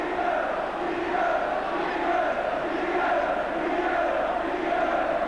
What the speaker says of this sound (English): the chant from the crowd, if you can follow the Geordie accents, appears to be Bobby Robson, are you watching on the box?